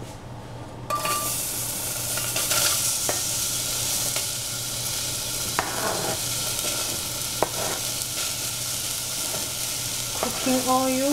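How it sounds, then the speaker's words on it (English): Onion frying in cooking oil, being stirred in a pan with shiitake mushroom nearby: a steady, close sizzle runs throughout, with scraping stirs and a few light clinks of utensil on the pan, no talking. "So put in the onion first."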